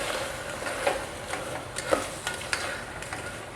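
Vegetables with salt being stirred in a pressure cooker for a ghee mixed-veg dal khichdi: close scraping strokes in an uneven rhythm over a soft, steady sizzle.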